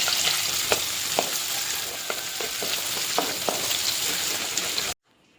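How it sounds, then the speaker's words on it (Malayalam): Curry leaves, garlic and shallots fry in coconut oil in a pan for a homestyle fish curry, giving a loud, steady sizzle with occasional sharp stirring clicks before it cuts off abruptly. "വെളിച്ചെണ്ണ ഒഴിച്ചു കറിവേപ്പിലിട്ടു വെളുത്തുള്ളി ഇട്ടു ചെറിയുള്ളി ഇട്ടു മിക്സ് ചെയ്തുകൊണ്ടിരിക്കുകയാണ്"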